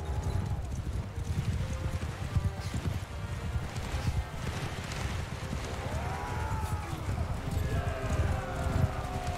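Horse hooves gallop with a rapid, continuous clip-clop in the video game Mount & Blade II: Bannerlord. Scattered neighs, battle sounds and a speaking voice sit over the hoofbeats.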